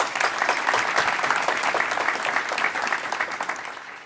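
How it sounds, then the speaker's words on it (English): A crowd applauds steadily at a State of Black Los Angeles event, dense clapping from a large audience filling the room at moderate volume with no voices over it. "Please give a warm round of applause for our MCs, Melissa McGee and Denora Perez."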